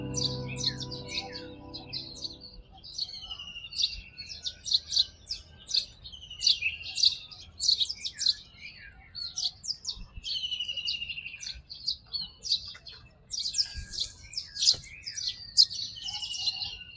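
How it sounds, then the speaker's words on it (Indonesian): Many birds chirping and trilling on a cool morning in the Berastagi highlands, dense overlapping calls near and far with a low hum fading out in the first seconds. "Kita bisa dengar"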